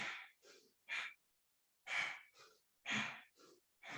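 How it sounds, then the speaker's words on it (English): Breathing through the nose during a core exercise, close and paced in pairs of quick inhales and exhales with short silent gaps, no talking. "Breathing through your nose."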